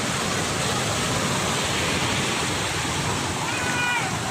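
Seawater floods into a house yard and pours over the front steps, a loud, constant, close rushing roar with no break.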